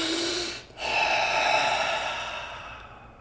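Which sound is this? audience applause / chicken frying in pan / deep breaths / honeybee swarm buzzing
deep breaths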